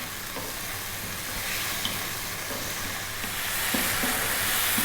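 Tomatoes and mixed vegetables sizzle steadily in a pan while cooking down for a creamy veggie pasta sauce, with occasional stirring scrapes over the continuous hiss; no talking.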